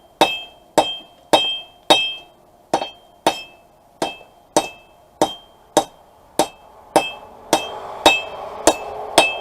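Hammer blows on cold steel rebar being straightened rather than forged, roughly fifteen sharp ringing metallic strikes in a steady rhythm, loud and close with no talking.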